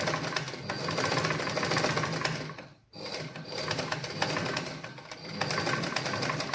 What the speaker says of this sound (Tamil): நான் இதில் மெது மெதுவாகத்தான் ஃப்ரெண்ட்ஸ் நான் உங்களுக்கு தைச்சு காட்டுறேன் நீங்களும் மெது மெதுவாகவே தையுங்கள்